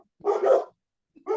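Dog barking during a city budget committee meeting, two separate bark bursts close by, the first a double yelp and the second cut short, with no talk.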